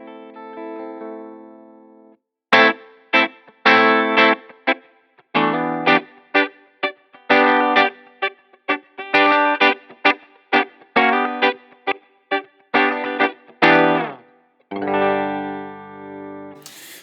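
Clean electric guitar tone through a Line 6 Helix with compression: a sustained chord, then a run of crisp, evenly spaced plucked notes and chords with short decays, ending on a ringing chord, played alone.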